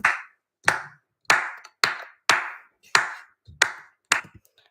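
Eight crisp hand claps from a homemade percussion track fall at an even, moderate pace, each clean and close with a short bright decay and silence in between.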